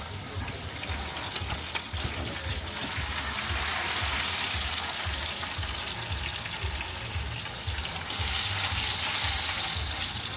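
Roti frying on a hot griddle at a street stall in Vang Vieng, Laos, a steady loud sizzle with a faint rhythmic scraping or stirring underneath, continuous throughout.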